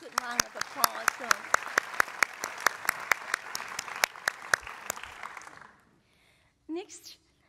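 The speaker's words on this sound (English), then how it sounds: "So let's give them all a good round of applause." A university convocation audience applauds, honouring business program members, with a broad steady clatter punctuated by sharp individual claps, fading out near the end before a brief voice speaks.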